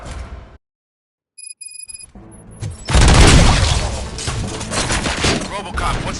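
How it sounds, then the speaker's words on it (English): Gunfire in Robocop: Rogue City erupts after a near-silent stretch with a few faint electronic tones, then continues as a loud, heavy barrage with booming impacts. "Gunshots? What's going on?"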